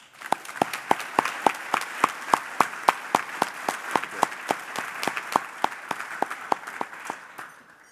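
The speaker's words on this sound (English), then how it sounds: "let's take a moment with a quick round of applause to recognize Paul for his service" Clapping at a 2019 gala honoring a Marine veteran comes in a steady, evenly paced rhythm of sharp, close claps, roughly three per second, continuing for about eight seconds.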